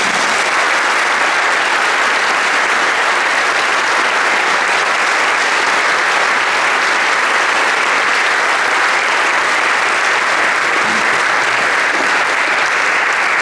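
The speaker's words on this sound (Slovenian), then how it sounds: "Prosim, namenimo vsem nastopajočim še en aplavz." Sustained audience applause at a municipal awards ceremony in Sevnica, a dense steady wash of clapping from a large crowd, loud and continuous throughout with no talk over it.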